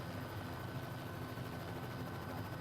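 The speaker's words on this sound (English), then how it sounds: "helicopter 406 Mike Romeo is taking off from the ramp" Helicopter 406 Mike Romeo in a flight simulator game lifting off from the ramp at Sullivan County, a steady close turbine-and-rotor drone holding even and loud throughout with no talking.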